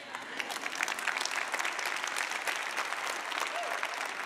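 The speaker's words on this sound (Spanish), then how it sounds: "Ahora di amén y aplaude," A church congregation applauding together, a dense, steady wash of clapping from a crowd filling the space, with voices mixed in underneath.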